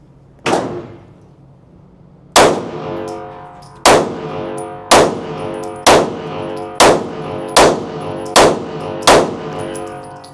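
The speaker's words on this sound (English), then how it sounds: "Let's see what it shoots like one-handed." A Sig Sauer P211 GTO pistol fired one-handed: eight loud, sharp shots, the first alone, then a pause before seven more in a steady rhythm, each with a ringing tail and no talking.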